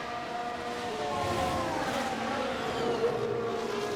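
Williams Formula 1 car driven by Albon on a flying lap in F1 Manager 22, a steady high engine whine with shifting pitch, moderately loud and continuous, with no talk.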